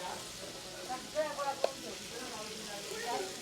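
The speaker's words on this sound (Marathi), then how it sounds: "आता अदरक लसूण पेस्ट थोडी बळण करून घेऊ" Ginger garlic paste frying for chicken sukka in a pan over a wood-fired chulha, a soft steady sizzle running throughout with a few faint clinks, no talking.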